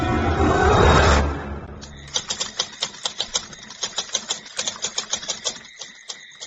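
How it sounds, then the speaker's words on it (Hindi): A brief whoosh, then rapid, evenly paced typewriter keystrokes clacking close up, a steady run of sharp mechanical taps. "टाइपराइटर की बटन दबने की आवाज सुनाई दे रही थी।"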